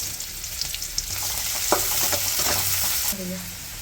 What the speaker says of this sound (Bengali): প্রথমে দিয়ে দিব তেল, তারপর দিয়ে দিচ্ছি পেঁয়াজ, কাঁচামরিচ,